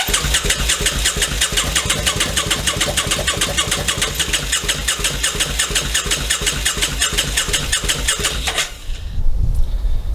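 Motorcycle engine with a gummed-up carburetor cranking over and over on the starter, a fast loud rhythmic churning that never catches, stopping abruptly near the end, followed by a short low rumble.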